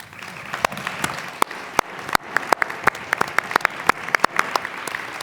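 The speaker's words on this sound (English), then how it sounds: "I'd like the audience to recognize our candidates with a round of applause" Candidate forum audience gives a round of applause: sparse, distinct hand claps from a modest crowd, individual sharp claps scattered over a soft background, fairly quiet and close.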